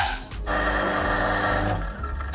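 An electric coffee grinder grinds a sample of roasted coffee beans for a coffee analyzer, giving a loud, steady mechanical whir with a harsh rasp that starts and then eases off near the end.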